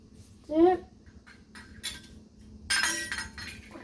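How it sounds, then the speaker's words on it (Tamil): A metal ladle clinks and scrapes against a pot of appam batter in a couple of short bursts, with quiet rustling and a low hum in between. "கரண்டியை யூஸ் பண்ணி கலக்குவோம்"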